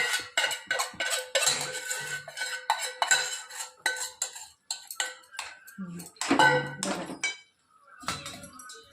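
A metal spoon scrapes and clanks against a pan over and over while upma is mixed, a busy irregular run of close, bright knocks and clinks with a brief pause near the end.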